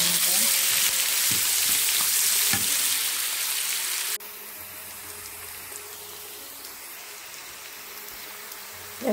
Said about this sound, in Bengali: পেঁয়াজ কুচিটা এখন একটু ভেজে নেব